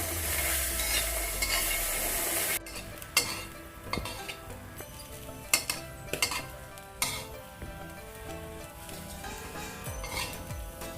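Thai pea eggplants being stir-roasted in a pan over low heat, with a steady dry sizzle and repeated scraping and clinking strokes of a utensil against the pan, close and moderately loud, with no voices.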